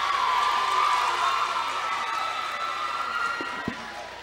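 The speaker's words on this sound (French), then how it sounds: "On l'applaudit encore si vous avez aimé." An audience at a Miss USB 2016 pageant finale claps and cheers for a storyteller, a dense, steady wash of crowd applause and shouts that slowly fades.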